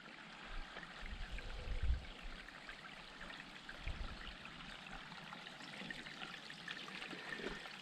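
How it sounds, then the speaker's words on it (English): A small stream of water trickles and babbles steadily outdoors up a hill, a continuous soft wash of flowing water with a few low thumps, fairly faint and without talk. "Nobody told me there was water up here."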